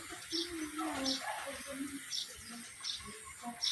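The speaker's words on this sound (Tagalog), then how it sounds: "Lovebirds." Lovebirds calling: short, high chirping bursts repeat every second or so, faint and partly under people talking nearby.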